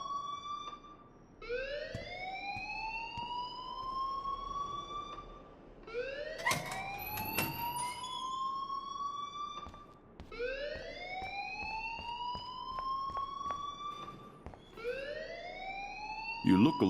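A rising, wailing electronic alarm in the Life is Strange video game sweeps upward again and again in long repeating cycles, loud and steady across the whole stretch.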